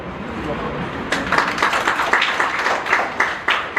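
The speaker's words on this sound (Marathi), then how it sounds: "टाळ्या वाजवल्या तुम्ही" An audience claps at a school ceremony honouring gifted students, headmasters and mathematics teachers. The steady patter of many hands starts about a second in and keeps going, with a voice underneath.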